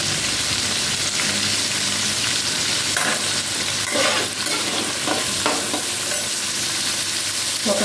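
Chopped carrots stir-frying in a pan give a steady, loud sizzle and crackle throughout, with stirring scrapes and clatters of the utensil against the pan, no voices present.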